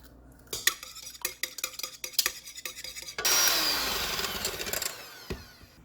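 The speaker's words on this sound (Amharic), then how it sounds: "በመጀመሪያ 2 እንቁላል እመታለሁ።" Two eggs beaten in a bowl for a keto muffin batter, brisk irregular whisk strokes clicking against the bowl, then a continuous faster rushing whisking run that ends with a few knocks.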